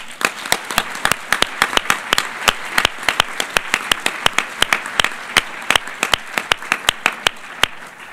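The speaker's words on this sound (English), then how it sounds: "Give a round of applause and warm welcome to our panelists." Audience at a UN climate panel applauding to welcome the panelists: a small, sparse group of distinct hand claps, sharp and irregular, close and fairly loud, steady throughout with no speech.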